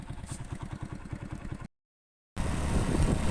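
Motorbike engine idling on its stand in a desert village, a close, steady rhythmic putter with clattering pulses, briefly cut to silence before resuming louder.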